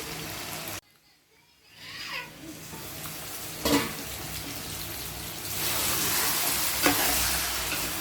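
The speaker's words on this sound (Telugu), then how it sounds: "చికెన్ ఆవకాయ నూనెలో కొంచెం సేపు ఉడకనిచ్చుకుంటే బాగుంటుంది" Chicken cooking in avakaya mango pickle oil, a steady close sizzle that cuts out briefly near the start, then returns with a spatula clink and grows louder and hissier toward the end.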